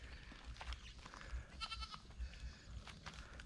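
A goat bleats several times beside a fishing spot in Thailand, short nasal cries spaced apart over faint outdoor background noise.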